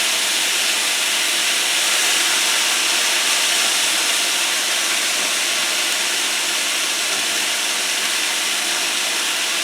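Beef tips browning in a hot covered pan, a steady loud sizzling hiss that holds unbroken throughout with no voices.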